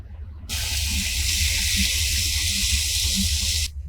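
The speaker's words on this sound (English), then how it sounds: "We're just going to pour it into our bowl." Thick sauce poured into a bowl in a kitchen, a steady loud rushing stream lasting about three seconds that starts and stops abruptly.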